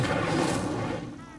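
An Incendio fire spell cast in Hogwarts Legacy on PS5 bursts out as a loud whooshing, booming blast of flame that fades quickly over about a second and a half.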